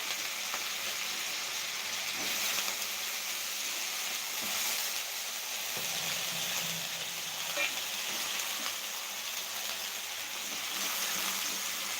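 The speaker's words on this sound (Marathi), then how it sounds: "फोडणी घालूया आपण" Tempering sizzles steadily in hot oil in a kadhai while sabudana khichdi is prepared, a continuous close, even frying hiss with small crackles and no talk over it.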